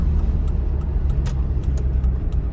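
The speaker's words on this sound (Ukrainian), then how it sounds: "У мене зараз третя передача, швидкість 45 км на годину, 1800 обертів" A car drives steadily in third gear at 45 km/h around 1800 rpm during a driving test, a constant low engine hum and road rumble heard from inside the cabin with faint clicks on top.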